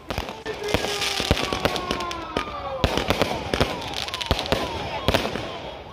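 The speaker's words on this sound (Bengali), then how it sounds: "নালকো টাউনশিপের আকাশে এখন আতশবাজির খেলা" Fireworks bursting over the Nalco township sky during a Ram Navami celebration, with sharp repeated cracks and bangs, rising whistles, and a steady crowd roar underneath.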